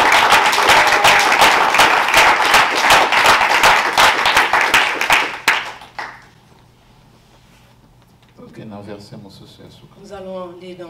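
Dense applause and clapping from a church congregation, loud and sustained for several seconds before dying away, then a quieter stretch with a voice speaking near the end.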